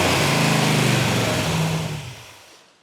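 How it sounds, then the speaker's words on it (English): A Dodge Challenger fitted with a Mother Thumper cam revs hard and close, its lumpy engine note holding loud before dropping away as the throttle closes, with no voices. "as quick as you hit that throttle, it revs"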